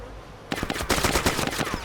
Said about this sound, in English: I'm shooting him in the fucking back.